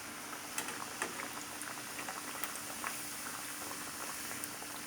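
Soft, steady bubbling and crackling of oil as banana vada deep fries, with faint scattered pops, quiet and continuous throughout with no voices.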